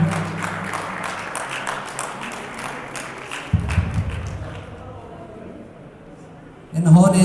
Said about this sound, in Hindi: आपकी भरपूर तालियों में मोहम्मद